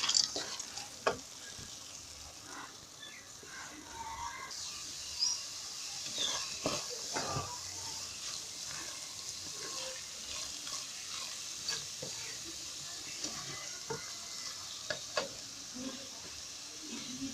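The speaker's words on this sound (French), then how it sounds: "2 minutes après, je vais ajouter mes lentilles égouttées." Drained lentils sizzle in a hot pan while a spoon stirs them for a meatless bolognese, a quiet steady frying hiss broken by soft scraping and clinking strokes.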